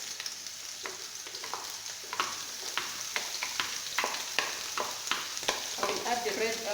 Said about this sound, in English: I will add the red onions, then I will stir